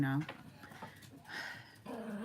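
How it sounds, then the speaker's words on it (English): Pet dogs give a brief high whine at the start, then make scattered soft whimpers and shuffling sounds while a person keeps talking over them. "Don't mind my dogs"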